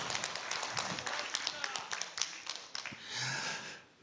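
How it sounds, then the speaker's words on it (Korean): Audience at a free investment lecture claps to welcome a stock-forecast lecturer: faint, scattered claps from a modest crowd, sparse and uneven, fading out as a voice starts near the end. "박수로 크게 또 맞아주시기 바랍니다"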